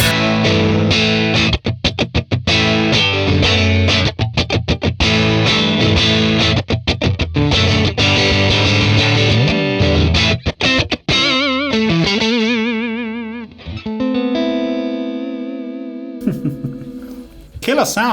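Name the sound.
electric guitar through 1966 Fender Blackface Bassman amp capture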